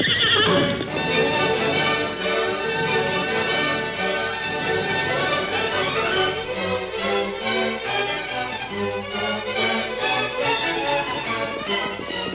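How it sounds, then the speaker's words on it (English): Several horses neigh and whinny loudly while hooves clip-clop in a steady, close gallop rhythm, staged as a sound effect in a western radio drama, with no talking over them. "the Lone Ranger, Tonto, and Jeff reined in their horses on the bank of a stream"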